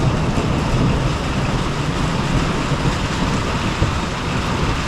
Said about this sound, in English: Oh, look at all this rain.